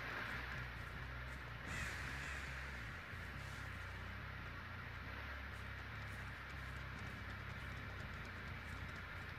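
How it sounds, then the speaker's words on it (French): Crow caws from a video game, faint and distant over a dense, constant ambient wash that continues throughout without talk. "Ils ont volé le corbeau."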